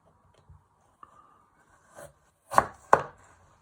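A knife cuts sweet potato on a board into halves and wedges, giving a few light taps followed by two sharp, close chops, with no voices.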